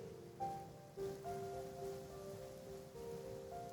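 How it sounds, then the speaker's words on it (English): Steady rain hisses softly in Genshin Impact, a faint, even patter under a light musical backdrop with no voices. "Rain. My hair and feathers are gonna get soaked."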